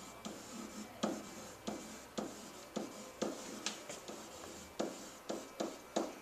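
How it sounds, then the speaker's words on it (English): A pen or marker writing by hand on paper, scratchy strokes in an irregular rhythm of short bursts, close and quiet, with no talking. "So over here I'm going to write cardboard box"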